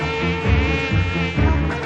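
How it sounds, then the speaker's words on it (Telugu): Flies buzz loudly and close by in a steady, continuous drone with slight swells in pitch and intensity, heard alone. "ఈగలు ఒకటి."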